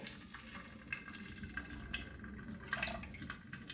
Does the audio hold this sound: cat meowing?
no